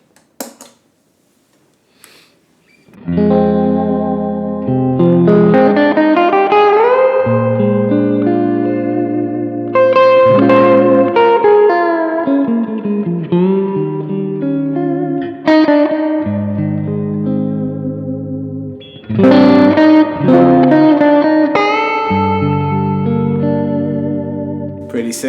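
An electric guitar plays strummed chords and ringing notes through a small 50W Milkman Sounds amp, with lush reverb trailing each phrase after a short silent start.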